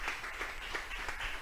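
Congregation applauding inside a church, a fairly quiet, steady wash of clapping with gently pulsing swells and no voices on top.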